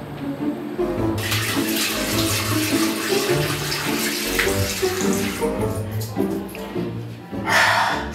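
Running tap water at a sink while someone washes an oily face, a steady splashing flow with rhythmic sloshing from hands scooping water, fairly close, with a brief voice-like sound at the end.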